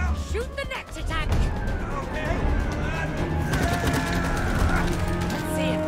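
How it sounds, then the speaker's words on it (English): A giant explosion in the co-op video game It Takes Two, a sustained loud roar of blasts, crackling gunfire-like bursts and debris filling the whole stretch, with players talking over it. "Every scene seems to end with a giant explosion."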